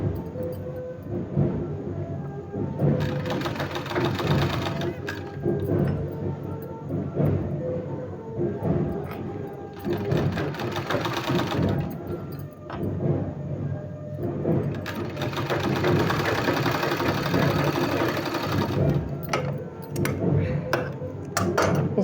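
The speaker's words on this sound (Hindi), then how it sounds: "इस तरह से हमको इसमें सिलाई लगा देना है" A sewing machine runs steadily, stitching fabric for a decorative sleeve with gathers. Its dense mechanical whir is near and continuous, with short pauses and bursts, and there is no talk over it.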